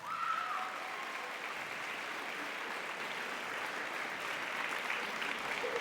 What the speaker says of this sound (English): Give your seniors a round of applause.